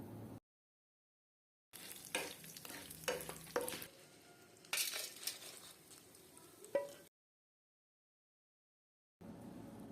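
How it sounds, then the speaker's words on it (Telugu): Whole spices and dried red chillies being dry-roasted in a pan over low heat, with bursts of scraping stirring and light crackling separated by stretches of silence. "సన్న మంట పైనే కారపొడికి కావలసిన పదార్థాలు వేపుకోవాలి. ఇప్పుడు ఎండుమిర్చి కూడా వేయండి."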